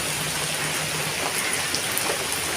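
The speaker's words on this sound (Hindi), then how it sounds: "क्योंकि बारिश हो रही है" Rain falls steadily at a Hanuman temple, a dense, even hiss of drops on surfaces filling the whole moment at moderate loudness, with no voices.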